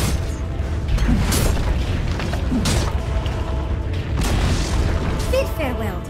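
Dota 2 tower being destroyed: deep booming crashes and creaking rumble roll through a dense, continuous wash of game noise, with a voice faintly underneath.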